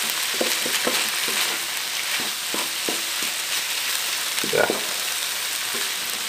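Young corn with chicken gizzards and livers sizzles steadily in a hot pan while a utensil stirs, scraping and clinking against the pan in irregular strokes, close by.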